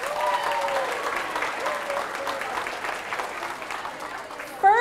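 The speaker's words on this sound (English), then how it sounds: "Let's give them a round of applause." An audience at a high school mascot reveal event claps in sustained applause that stays loud throughout, with a voice speaking over it near the end.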